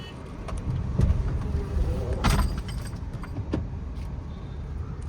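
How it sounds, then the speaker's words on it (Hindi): A car rolls backward down a steep slope with its engine switched off, giving a low rumbling, rattling roll. A few sharp knocks and clunks stand out over the steady background. "हो गई गाड़ी बैक और ये जा रही ढनकते हुए"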